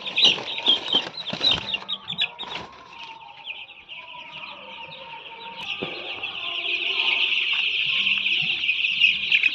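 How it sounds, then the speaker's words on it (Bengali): Ten-day-old chickens chirp and cluck while being caught by hand. Wing flaps and handling knocks come early, then a steady stream of high peeping continues nearby. "মুরগি ধরতে হবে"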